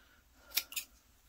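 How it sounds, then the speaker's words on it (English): Scissors snip through card paper with two quick, close cuts in a quiet craft setting. "grab my scissors"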